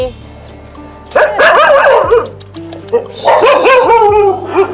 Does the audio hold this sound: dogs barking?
yes